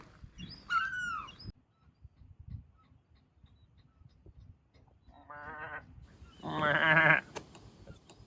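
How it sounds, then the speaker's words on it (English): A ram bleats several times in the Faroe Islands, wavering calls spaced apart, with one louder, longer bleat near the end against a quiet outdoor background. "That's the ram call."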